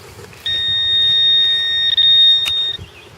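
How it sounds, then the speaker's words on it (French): A metal detector sounds its signal over a buried coin, a 25-cent piece: one steady, loud, high-pitched electronic tone held for about two seconds before cutting off. "Je commence à connaître mon détecteur à fond."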